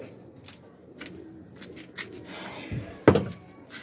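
A female pigeon, a breeding hen raising chicks, gives a few soft low coos close by, followed by a sharp thump near the end.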